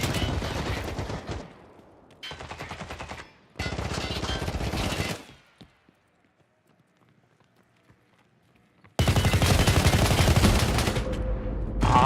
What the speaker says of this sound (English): How many times I have to shoot him?